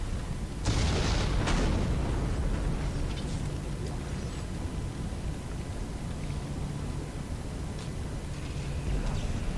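A sudden heavy blast in Dead Space kicks off a sustained rumbling roar, with further distant booms and crackling bursts echoing through a noisy, droning background.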